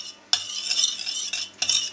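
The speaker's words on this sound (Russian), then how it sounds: "Периодически помешиваем." A utensil stirs tomato sauce in a pan heating over medium heat, producing soft scraping and swishing strokes with a few sharper knocks against the pan, quiet and without talk.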